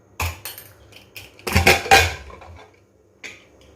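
A metal pressure cooker holding cooked mutton, already depressurised, is opened with a handful of sharp metallic clanks and knocks of the lid, close and fairly loud, separated by short quiet gaps.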